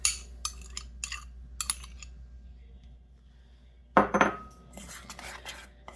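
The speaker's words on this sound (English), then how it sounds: "Mix it all together." Wet ingredients mixed in a bowl for keto hushpuppies, with several quick clinks and scrapes of a utensil against the bowl, a pause, then a louder burst of rapid stirring.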